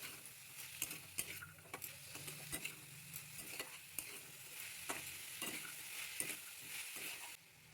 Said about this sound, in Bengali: মটরশুঁটিগুলোকে কিছুক্ষণের জন্য নেড়ে নেব।